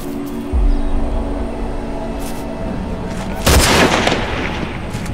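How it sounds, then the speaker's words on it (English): Gunfire in the video game Hunted: two loud broadband blasts with rumbling low tails, one near the start and a heavier one later, over a steady game ambience. "He shot."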